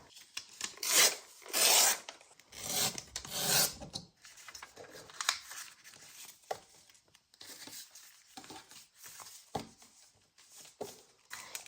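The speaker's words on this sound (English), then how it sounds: "Didn't do a good job measuring, so I need to trim those down a little bit." Journal pages are trimmed down to size with a raspy, filing-like scraping in several close strokes, loudest at the start and then fading into quieter rubbing and light handling sounds.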